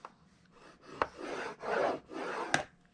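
Paper board for a DIY tower box being scored with a tool, giving several short raspy scraping strokes with sharp clicks between them, close and fairly quiet.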